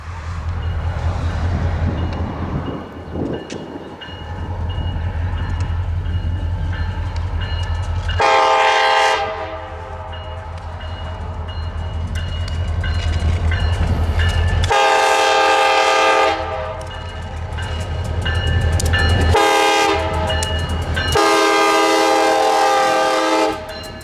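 A single freight locomotive, number 6907, labors loudly climbing a steep grade on the Aberdeen Carolina and Western, with a deep, steady engine rumble, while its horn blasts several long, loud blows over the grinding roar.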